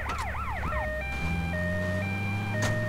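An ambulance siren in GTA Vice City wails in rapid rising-and-falling sweeps, then switches to a steady two-tone alternating pattern, loud and close over low engine rumble.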